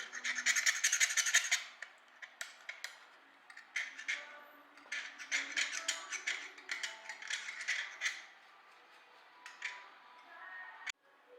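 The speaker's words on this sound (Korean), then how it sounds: "스틸 샤프트에 남아 있는 이 에폭시 덩어리나 이런 남아있는 것들을 제거하는 작업을 하고 있습니다" Scraping and rasping as leftover epoxy is removed from a steel golf club shaft during a club fitting build, heard in busy bursts with a few short pauses, fairly quiet and close, with no talk.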